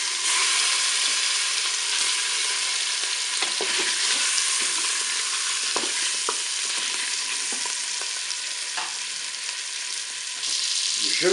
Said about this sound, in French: mon beurre est bien chaud et fondu, donc je vais faire revenir mes paupiettes